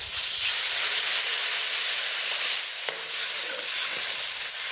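Water poured into a hot pan of fish and black cumin hisses and sizzles with a loud, steady steaming rush that slowly eases, alone without talk.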